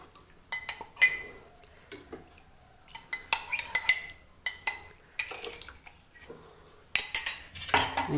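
A spoon stirs custard mix into nearly boiling milk in a pan, giving scattered clinks and scraping strokes in short bursts with pauses between.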